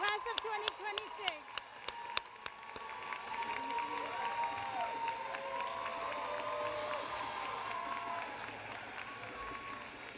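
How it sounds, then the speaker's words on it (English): Applause and cheering from a commencement crowd for the graduating class of 2026, starting with a few sharp claps and whoops, then settling into a steady, fairly distant wash of clapping and crowd noise. "Another applause for the class of 2026."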